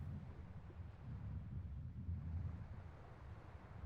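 A windy coastal ambience from the video game Tales of Berseria: a low, steady rush of wind that stays even throughout, muffled and fairly faint, with no talking.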